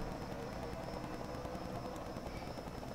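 A TV camera helicopter hovers over the Bristol race track during a NASCAR Whelen Modified Series race, giving off a steady, even rotor and engine drone that holds at one level throughout.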